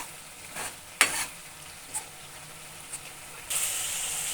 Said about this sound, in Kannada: ನೋಡಿ ಎಣ್ಣೆ ಎಲ್ಲ ಬಿಟ್ಕೊಂಡಿದೆ, ಚೆನ್ನಾಗಿ ಕುದೀತಾ ಇದೆ.